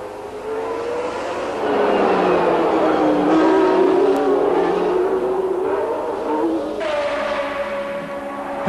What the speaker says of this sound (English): Patrese's engine seems to falter.